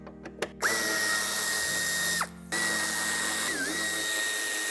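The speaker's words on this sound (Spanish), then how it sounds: "Mediante una llave de Torx de 30 aflojaremos los dos tornillos del piloto y el tercero del paragolpes" A power driver fitted with a Torx 30 bit spins out the tail light screws on a 2015 Fiat 500X, running in two long steady whirring bursts with a short pause between, close and loud, preceded by a few quick clicks.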